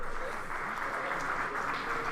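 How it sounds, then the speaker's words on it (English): Applause at the finish of a Song of Ice and Fire tabletop game tournament, steady clapping from a crowd across a hall, heard at moderate distance throughout. "There's a finish of the Song of Ice and Fire tournament, so there will be some clapping in the background."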